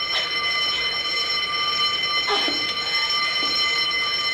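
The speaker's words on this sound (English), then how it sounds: "You heard the fire alarm, so who's on fire?" A prison fire alarm rings steadily and loudly, a constant electronic tone with overtones held unbroken for the whole stretch, with faint thuds beneath.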